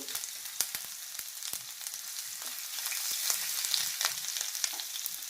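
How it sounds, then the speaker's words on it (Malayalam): Long-sliced ginger fries with spluttering mustard seeds in hot oil for a broken samba wheat uppumavu, a soft continuous sizzle dotted with sharp popping crackles, growing slightly busier toward the end. "കടുക് ചേർത്ത് കൊടുക്കുന്നു അതിലേക്ക് ഇഞ്ചി അരിഞ്ഞത് ചേർത്ത് കൊടുക്കുന്നു"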